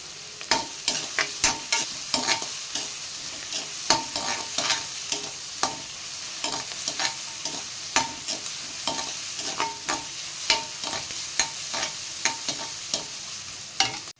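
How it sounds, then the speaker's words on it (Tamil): Ginger garlic paste being sautéed with onions fried golden brown for butter chicken masala: a constant close pan sizzle under a brisk, regular run of sharp spoon scrapes against the pan, with no voices. "இஞ்சி பூண்டு பேஸ்ட்டு சேர்த்துருக்கோம், அதை வதக்கிக்கலாம்."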